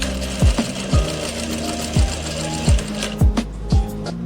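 A sewing machine fitted with a piping foot stitches a fabric strip in short bursts, with several quick mechanical runs and brief pauses between them, close and clear.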